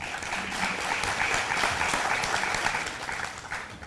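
An audience at a Korean forum on nuclear phase-out claps in welcome for a guest speaker, a steady, dense round of applause lasting the whole stretch and easing slightly at the end.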